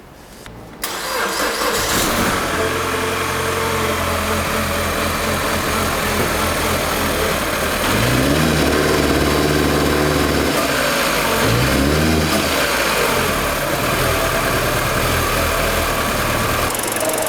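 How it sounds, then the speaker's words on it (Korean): A used car's engine cranks and catches within the first second, then idles loud and close with a steady rumble, rising into two brief revs midway before settling back to idle. "시동 한번 걸어보고요, 소리가 어떤지 한번 보도록 하겠습니다."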